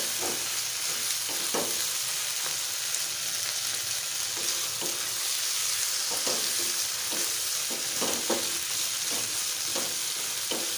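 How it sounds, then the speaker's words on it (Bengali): Minced meat frying in a pan with chopped onion and chili for meat puli pitha, a constant loud sizzle broken by regular scraping stirs of the spatula, with no voices. "এখন আমি মাংসটাকে পেঁয়াজ আর মরিচ কুচি দিয়ে আবার ভেজে নিচ্ছি"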